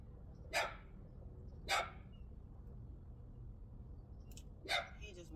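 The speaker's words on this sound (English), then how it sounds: "He just won't stop barking." A dog barks three times, short and sharp, spaced a couple of seconds apart, over a quiet low background hum.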